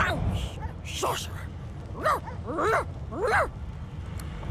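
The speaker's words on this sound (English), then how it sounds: "The dog whines and continues pawing at its nose." A dog in the fantasy game Divinity: Original Sin 2 whimpers and yips in rising, wavering cries, repeated several times up close over a busy game background.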